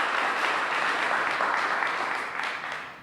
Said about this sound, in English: Let's give them another round of applause for all their vision and leadership on this project.